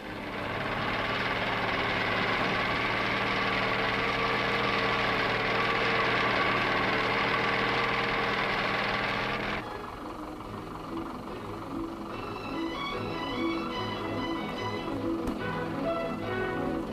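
A Land Rover diesel engine runs close by with a steady, loud, even drone, then the pitch and loudness drop around the ten-second mark and it settles into a softer idle.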